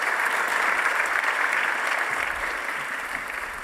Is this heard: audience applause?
yes